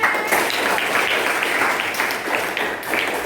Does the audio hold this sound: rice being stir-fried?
no